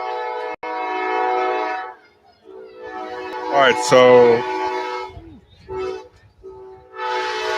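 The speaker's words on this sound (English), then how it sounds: "There's a train going by." A California Surfliner passenger train passes by a backyard on 13th, its horn sounding in loud sustained blasts with a short sharp burst midway, rail rumble beneath and someone speaking briefly.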